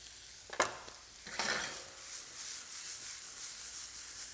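Chili and garlic tossed into a pan of browning vegetables for shakshouka, a couple of scraping stirs followed by a steady soft sizzle, quiet and close.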